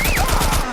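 Gunfire in The Last of Us Part 1 during a zombie attack scene, a rapid burst of shots lasting under a second, loud and close, with no talk.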